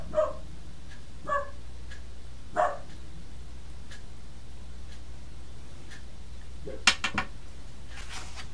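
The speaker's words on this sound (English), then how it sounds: "You had to get that last little bark in there." A dog indoors gives a few short, separate barks and yips, spaced out at moderate distance, ending with a sharper final bark over quiet room noise.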